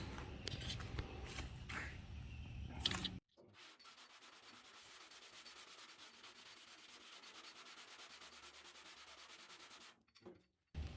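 Steady, continuous rasping of sanding against a Ford Bronco's metal body panel near the spot welds, close by, running for several seconds after a brief stretch of other rubbing noise.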